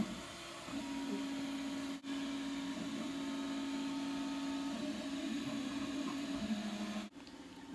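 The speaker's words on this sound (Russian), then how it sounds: "Вот 3D принтер, на нем мы поставили простейшую модель." A 3D printer prints a simple model, its steady motor hum and whirring tone running continuously, with a couple of brief breaks, and no voices.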